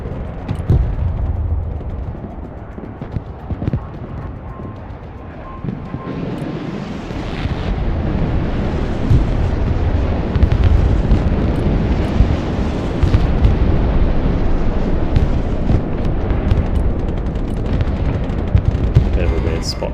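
A nuclear strike detonating in the military strategy game Broken Arrow, a loud sustained roaring rumble that swells and holds for many seconds, with heavy low booming and scattered crackling bursts and gunfire.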